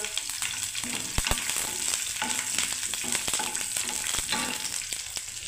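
Peanuts and green chillies frying in a pan for oats pulao, a close, busy sizzle with crackles and scattered sharp clicks and scrapes of stirring, no voices.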